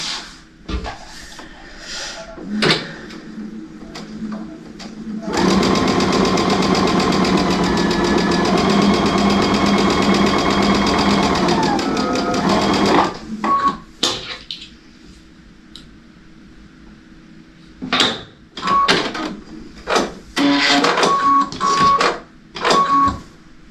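A sewing machine stitching a star-spangled wall hanging runs in a steady loud whir for about eight seconds, then stops, followed by scattered clicks and handling knocks of fabric and machine.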